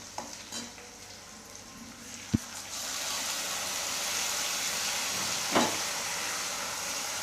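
Onion and tomato paste hits hot oil in a pan for a spicy village-style potato and cauliflower bhaji with a sharp thud, then a steady, loud sizzling hiss builds and holds, with an occasional stirring scrape.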